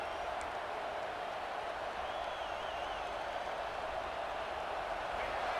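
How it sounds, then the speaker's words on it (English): A college football stadium crowd in the EA Sports College Football 26 video game roars in a steady, dense wall of cheering that holds without a break. "It's early, but this crowd is fired up. Listen to this noise here."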